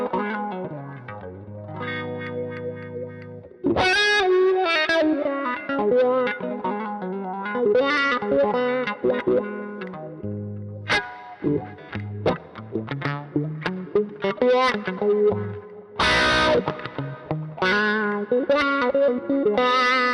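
Electric guitar played through a wah pedal fitted with a Mesa Boogie inductor, with chorus and distortion effects: a loud, continuous run of riffs and sustained chords alone, with sweeping filtered tone changes and sharp strummed bursts.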